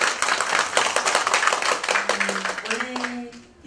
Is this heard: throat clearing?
no